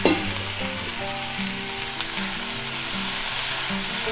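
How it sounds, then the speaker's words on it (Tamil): Cut cabbage and a single green chilli sizzle and fry steadily in a hot pan, a close, continuous crackle that holds even throughout with no talking. "காரத்துக்கு ஒரே ஒரு பச்சை மிளகாய், கட் பண்ண கோஸை சேர்த்துருவோம்."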